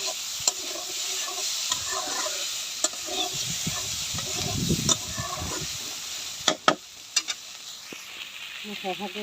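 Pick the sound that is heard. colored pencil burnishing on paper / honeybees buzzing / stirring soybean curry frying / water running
stirring soybean curry frying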